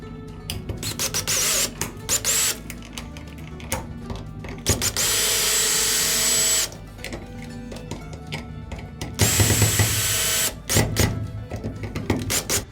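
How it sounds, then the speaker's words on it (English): A power drill driving screws into an electrical outlet whirs in several loud bursts of a few seconds each, separated by short pauses and clicks, close up. "That's what I'm going to use my drill I told you about."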